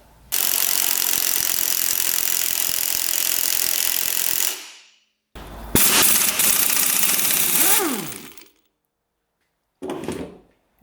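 A ratchet wrench working a big bolt loose during repairs on a UTV, loud buzzing mechanical rattle in two long bursts with a short pause, then a brief final burst.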